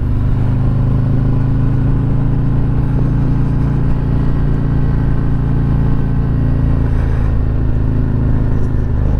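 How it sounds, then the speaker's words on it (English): A motorcycle rounds a curve under light front braking and eased throttle, its engine a steady loud drone with a continuous rumble throughout, recorded close with strong wind noise and no speech. "I'm going to get on the front brake just a little bit, releasing that throttle, slowing down."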